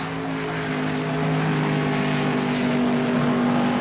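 Ray Beadle's Blue Max funny car roars through a single drag-racing run at the 1977 NHRA Gatornationals, a steady, loud engine drone holding throughout.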